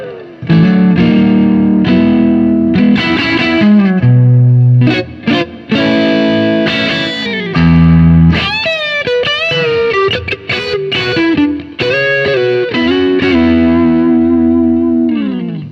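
PRS electric guitar with a highly figured maple top, played through the neck pickup with a high-pass filter, gives a loud, continuous run of sustained notes and chords with a chorus-like, slightly overdriven shimmer.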